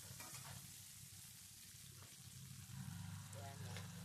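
Curry leaves frying in a pan for coconut rice, a steady close sizzle with light crackling and stirring throughout.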